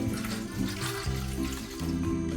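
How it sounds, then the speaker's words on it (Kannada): Water pours steadily into a metal idli steamer vessel in a home kitchen, a continuous splashing fill without any talking. "ಇದರಲ್ಲಿ ಸ್ವಲ್ಪ ನೀರು ಹಾಕಿ ಬಿಸಿಯಾಗಲು ಇಡ್ತೇನೆ."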